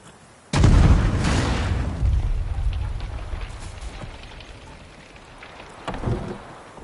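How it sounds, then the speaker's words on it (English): Lightning strike in The Witcher 3: a sudden loud thunderous crack and boom that rolls off into a long rumbling decay, with a smaller second boom near the end. "A bolt of lightning or something?"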